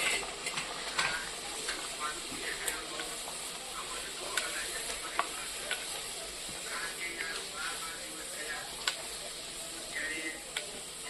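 Puri frying hot in oil, a continuous sizzling hiss with small crackles and pops, alongside faint background talk in a busy kitchen.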